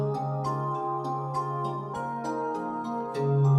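A halftime beat built in Ableton plays with overdrive on it: sustained, gritty tonal layers under sparse, punchy hits at a slow, laid-back pulse.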